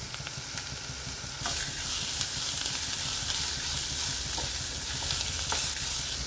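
Potatoes with coriander powder are stirred in a hot pan for bitter gourd fry, giving a steady close sizzle with scraping spatula strokes and occasional clinks.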